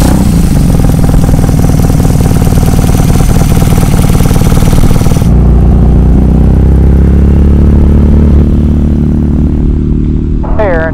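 BMW R nineT motorcycle engine running loud and close with a steady idle rumble that settles to a lower, quieter idle partway through, with people's voices mixed in.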